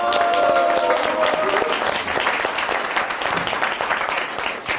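An audience applauds to welcome a duo of singers onto the stage at a Korean concert event, producing a full, sustained wash of clapping from the crowd that eases off slightly toward the end.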